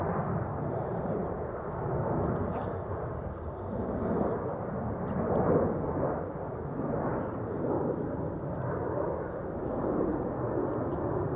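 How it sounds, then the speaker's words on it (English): A KLM Boeing 737 departing Amsterdam Schiphol for Madrid produces a deep, rumbling jet roar that swells and eases gently, heavy in the low end, with faint scattered clicks above and no talking. "737 KLM to Madrid, flight 1503."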